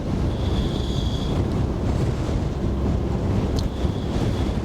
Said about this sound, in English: that wind is bitter